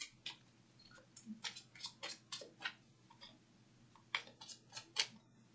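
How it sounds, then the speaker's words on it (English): Tarot cards being shuffled by hand, giving a run of soft, quick papery riffles and taps up close, with two denser bursts near the end over a low steady hum. "while I'm shuffling"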